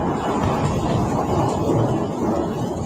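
Thunder rumbles steadily through a lightning storm, a loud, continuous low roar with no clear breaks, heard alone for about three seconds.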